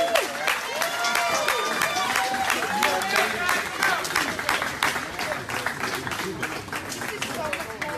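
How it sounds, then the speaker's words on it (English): Applause from a group of guys during a battle-of-the-sexes challenge, a dense run of clapping and some cheering that continues evenly throughout, with several people talking and shouting over it. "let's give her a round of applause"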